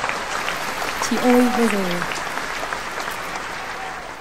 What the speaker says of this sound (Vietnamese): Cảm ơn những tràng pháo tay của quý vị rất nhiều.